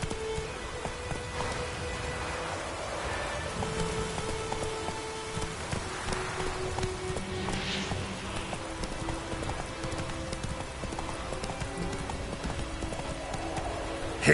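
Roach, a horse in The Witcher 3, moves at pace with a steady run of hoofbeats under a constant wash of rain and ambient game sound.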